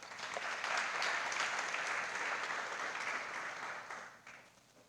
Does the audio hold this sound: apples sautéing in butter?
no